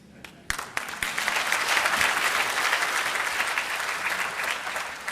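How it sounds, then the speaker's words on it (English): Audience applause at a university convocation ceremony, a burst of many hands clapping that starts abruptly, holds steady and loud for several seconds, then tapers slightly. "You felt like clapping, did you? Wonderful."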